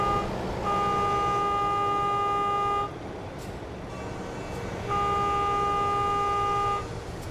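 A truck's air horn in American Truck Simulator blares in two long, steady blasts of about two seconds each, loud and close, separated by a short pause over low engine rumble.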